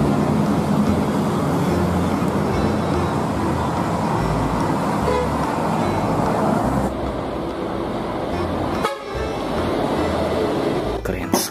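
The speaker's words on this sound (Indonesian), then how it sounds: "Wih, bis PO Haryanto." Bus passing on a road, a PO Haryanto coach, heard as steady broadband traffic rumble with a short horn toot, loud and close, with a voice talking over it.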